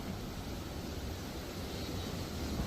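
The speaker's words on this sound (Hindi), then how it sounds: "पानी का ये शोर कानों को इतना सुकून देता था" A river rushes along the route from Naran toward Hunza, a dense, even roar of water that stays constant throughout with no voices.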